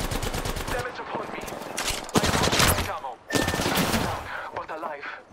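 Rapid automatic gunfire crackles through a firefight in the video game Apex Legends, bursts repeating in quick volleys with brief lulls, loud and close throughout, mixed with game effects and faint voice.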